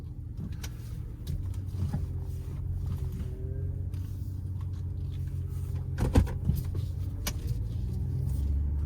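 A 2010 Ram 1500 Hemi V8 with a misfire idles steadily with a low rumble, along with scattered clicks and knocks from the truck, and no one talking.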